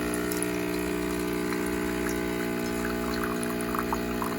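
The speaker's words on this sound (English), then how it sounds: "I'm going to go ahead and run a quick some water through it, just because I don't want it cold." A Neretva vintage-style espresso machine with a 58 mm group head runs a flush of water through the group, giving a continuous pump hum and a steady stream of water throughout.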